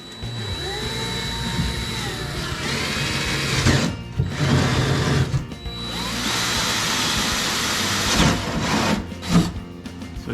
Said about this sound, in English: So drill through on this side to get the spot for the hole.